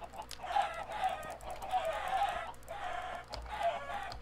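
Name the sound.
chickens clucking in the video game Minecraft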